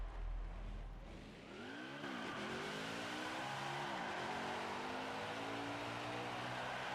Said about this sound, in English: Let's get that burnout going